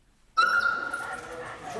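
Police puppies at a Christmas party full of officers and journalists let out a sudden high whimper and yip that trails into a drawn-out, wavering whine, close and fairly loud.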